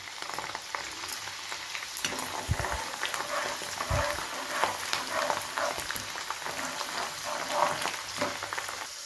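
Dried red chillies frying in hot oil for a tempering, a steady close crackling sizzle that carries on throughout with occasional sharper pops and faint stirring clatter, and no voices.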